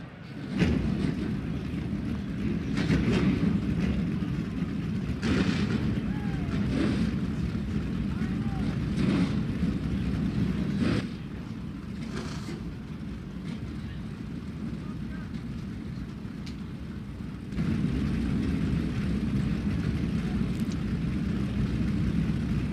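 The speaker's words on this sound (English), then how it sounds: "start your engines." Race car engines starting and running at New Smyrna Speedway during a NASCAR night race, a steady broad roar with repeated surges and bursts, carrying on throughout with a brief dip midway.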